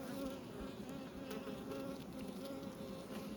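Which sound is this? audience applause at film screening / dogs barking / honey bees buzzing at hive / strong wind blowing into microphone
honey bees buzzing at hive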